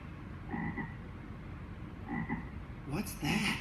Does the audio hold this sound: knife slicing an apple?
no